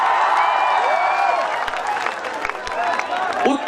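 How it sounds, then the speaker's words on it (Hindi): An audience at a live stage show applauds and cheers, a dense, steady wash of clapping and crowd noise lasting a few seconds with a voice briefly audible over it. "एक बारी जोरदार तालियां अपने खुद के लिए,"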